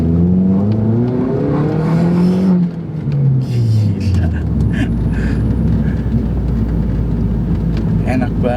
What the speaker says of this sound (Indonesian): Yang kedengaran itu hanya suara knalpot